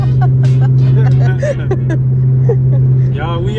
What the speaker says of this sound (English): Because the car is so loud.